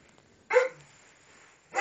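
A dog barking near a new barn in a farmyard, two sharp separate barks a little over a second apart, fairly close, against a quiet background.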